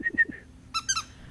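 A dog's squeaky toy squeezed in short bursts: a few high squeaks at the start, a pause, then two more squeaks in quick succession, close and fairly faint, with no talk.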